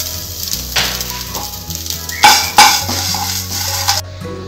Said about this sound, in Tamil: சூடான கடாயில் நம்ம உப்பு ஆட் பண்ணும்போது நல்லா அது பொரியும்